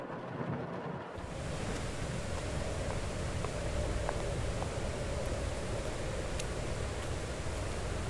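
Steady heavy rain with a low rumbling thunder bed from a horror video game, a wide hiss that rises after a brief quieter start and holds evenly to the end.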